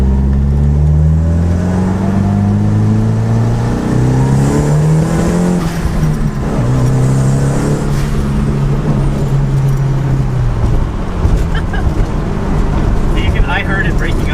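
A Nissan S13 with an SR20 engine pulls hard at full throttle, its loud droning engine note rising in pitch through the gears, heard from close by inside the car alongside talk.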